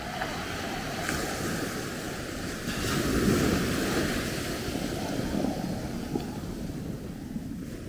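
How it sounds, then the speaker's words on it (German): Calm sea at the Punta in Maspalomas, Gran Canaria, with barely any swell: soft, continuous lapping and splashing at the shore under steady wind rumble, no voices. "hier an der Punta kaum Wellenbewegung. Es plätschert nur, so wie in der Badewanne."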